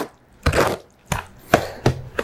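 Mortar hoe pushing wet historic lime mortar by hand in a mixing tub, giving four or five close, wet scraping thuds and sloshes spaced roughly half a second apart.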